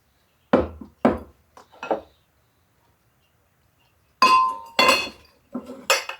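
Sugar and all-purpose flour go into a glass mixing bowl for cheesecake. Three sharp clinks and knocks are close, followed by a quiet gap and then a louder flurry of ringing taps against the glass.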